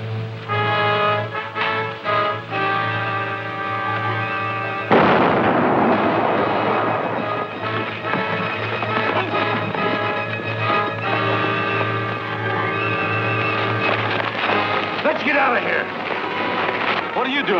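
A naphtha torch explodes in a 1939 Western: a sudden loud boom breaks in partway through, and its rumble and crackle carry on under an orchestral music score for the remaining seconds.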